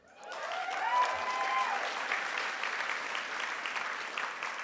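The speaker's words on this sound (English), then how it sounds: "Yeah, we can clap again" Audience at an ACLU Southern California honors event breaks into applause, rising quickly and holding as a steady, moderately distant clapping crowd.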